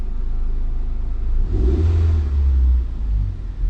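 A rebuilt Honda CR-V engine idles low with a deep, steady rumble close up, swelling slightly midway as if revved a touch, no talk over it.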